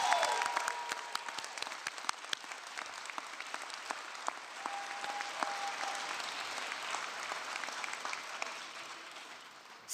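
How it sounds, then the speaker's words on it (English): Audience applause at the 2023 Rutgers NJMS convocation ceremony fills the hall as steady, even clapping that holds for about ten seconds, moderately distant, and slowly tapers near the end. "Please, let's applaud for all those who supported you."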